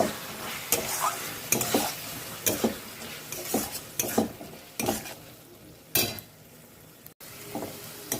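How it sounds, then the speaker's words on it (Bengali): Boiled chickpeas being stirred in a hot pan of spiced masala, with repeated scraping strokes and a steady sizzle, several distinct stirring bursts in an uneven rhythm, close and moderately loud, no talking. "এটা ভালোই মশলা দিয়ে কষা হয়ে গেছে, দেখো অনেকক্ষণ ধরেই নাড়ানো চলছে।"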